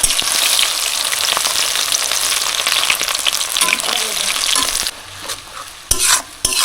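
Whole spices such as black cardamom, peppercorns and mace fry in hot oil in a pan for Kadaknath chicken, making a loud, dense sizzle that drops off near the end into brief stirring bursts.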